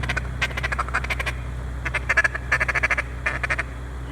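Bursts of rapid duck quacking during a duck hunt, several birds calling in quick clusters at mid distance over a low steady background rumble.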